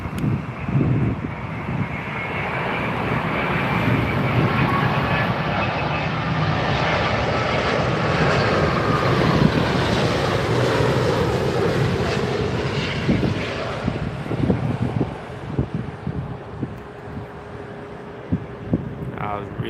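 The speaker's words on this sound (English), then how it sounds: "So here comes the next Virgin. (787) Dreamliner." A Virgin Boeing 787 Dreamliner arrives at London Heathrow, a loud sustained engine roar with a descending whine as it passes, while people talk over it and wind gusts hit the microphone.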